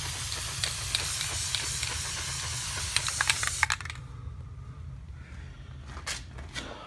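A spray can hisses steadily as brass paint coats ceiling fan blades, a continuous close spray that stops midway, followed by a few faint clicks and taps.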